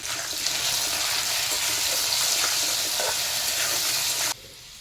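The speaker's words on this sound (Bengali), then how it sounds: "সর্ষের তেল দিয়ে নুন আর হলুদ দিয়ে কচু কটা ভেজে নেব" Taro pieces fry in mustard oil with salt and turmeric in a hot pan, giving a loud, continuous close sizzle that cuts off abruptly near the end, with no talking.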